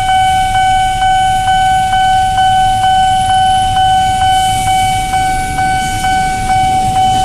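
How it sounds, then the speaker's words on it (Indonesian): KRL commuter train passing a railway crossing at Industri Raya, Sawah Besar, in light drizzle. The crossing bell rings in a steady repeating pattern over a continuous loud rumble of rolling rail cars, with no voices. "Apa yang lewat nih? KRL kayaknya."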